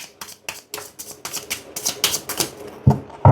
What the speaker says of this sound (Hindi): तो चलिए सबसे पहले हम कार्ड्स को करते हैं शफल